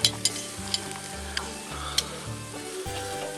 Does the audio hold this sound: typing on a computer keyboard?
no